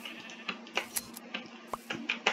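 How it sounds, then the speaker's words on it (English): Sheep in the Minecraft video game bleat in a quick run of short, close calls with small gaps between them. "there's two sheep right here"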